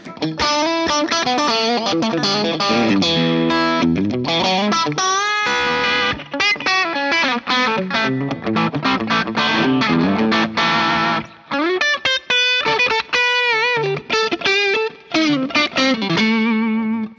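An electric guitar plays chords and single notes through a Crazy Tube Circuits Unobtanium overdrive pedal, gritty, with sharp pick attacks and brief pauses between phrases.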